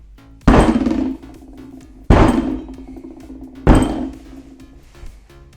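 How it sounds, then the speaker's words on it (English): A slab mold is banged down onto a table three times in slow succession, each a loud, close, hollow thunk with a short ringing decay. "So let me move this slab mold real quick. I'm gonna bang it down."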